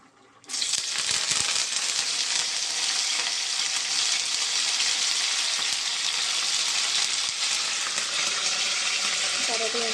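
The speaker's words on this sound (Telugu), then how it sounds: "కొంచెం పచ్చివాసన పోయేదాకా మనం ఫ్రై చేసుకున్నాం." Curry leaves and dried fish hit hot oil for a brinjal and dried-fish curry, setting off an abrupt, loud, continuous sizzle that stays dense and steady to the end.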